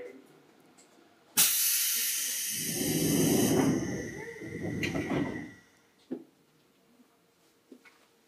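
Doors on a Seibu Shinjuku Line 2000 series train close with a sharp pneumatic thump, followed by a long loud hiss of air and a few fainter clunks afterward, heard from inside the car.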